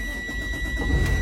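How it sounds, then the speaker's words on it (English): A school bus diesel engine cranks and catches, a steady close rumble of the engine turning over and running with no voices. "Now you can crank the bus back up because it's not gonna go out no more."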